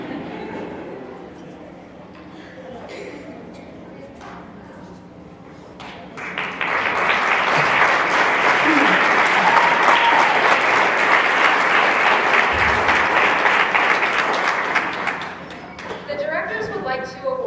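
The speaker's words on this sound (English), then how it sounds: "Let's once again give all of the Junior Miss contestants a round of applause for doing a great job." Loud, sustained applause from a pageant audience for the Junior Miss contestants swells for several seconds and then tapers off, with a host speaking before and after it.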